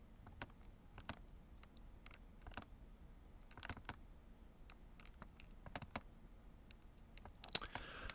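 Code being typed on a computer keyboard, quiet, irregular bursts of clicking keystrokes with short pauses between runs, close and alone without talk.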